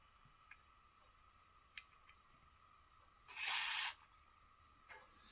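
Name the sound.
aerosol spray can spraying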